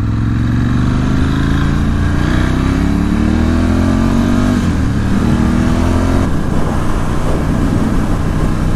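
A 2018 Ducati Scrambler 1100 Special motorcycle accelerating on a road test ride, its engine loud and close, revs climbing through gear changes in rising sweeps with a brief shift dip midway.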